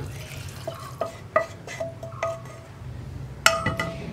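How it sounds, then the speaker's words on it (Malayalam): A spoon scrapes kadala curry masala and a splash of water from a pan into a pressure cooker, with sharp metallic clinks and scrapes at uneven intervals, close and fairly quiet. "ഈ പാനിലുണ്ടല്ലോ കുറച്ച് വെള്ളവും കൂടി ചേർത്ത് ആ മസാലകളെല്ലാം ഒന്ന് പാനിൽ നിന്ന് മുഴുവനായിട്ടും കുക്കറിലേക്ക് ചേർത്ത് കൊടുക്കുകയാണ്"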